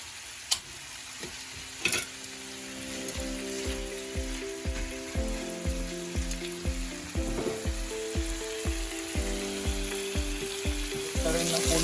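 Chicken for yakitori cooks in a pan, a close, steady sizzle with repeated rhythmic scraping and clattering strokes of a spatula, growing slightly louder toward the end, with no talking.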